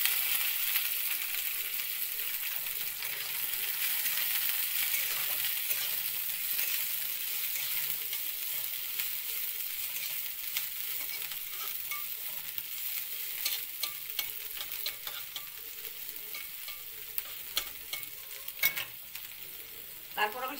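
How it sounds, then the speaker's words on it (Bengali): Chopped onion frying with garlic in a pan for a homemade Bengali sidhol chutney, a continuous close hiss and sizzle of hot oil with occasional stirring scrapes and clicks, no voices. "তারপর আমি পেঁয়াজ কুচিটা দিয়ে দিই।"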